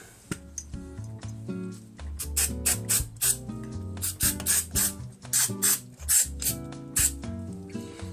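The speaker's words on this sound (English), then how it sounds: "So now we're just going to quickly spray it onto my rag here." Short hissing bursts of aerosol spray onto a rag during a 2002 Honda Shadow VLX carburetor rebuild come in quick succession over soft background music, each a sharp, close spray.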